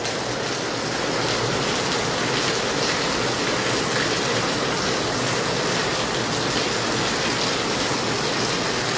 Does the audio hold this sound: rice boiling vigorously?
no